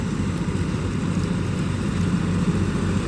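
A tractor engine, a model 53 used to run a straw-chopping machine, drones in a steady low rumble, loud and close, with no change in pitch and no voices.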